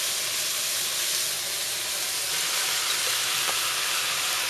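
Beef stir-frying in a pan for Mongolian beef gives a steady, close, even sizzle and hiss, with no voices over it.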